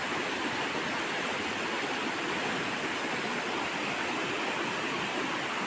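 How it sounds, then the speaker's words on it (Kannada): Steady rushing water of a flowing stream, a continuous broad wash of sound without pauses or voices. "ನೋಡಿ ಇಲ್ಲೇ ಉಂಟು ನಮ್ಮ ಹೊಳೆ"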